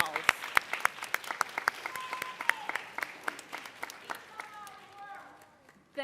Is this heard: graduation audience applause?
yes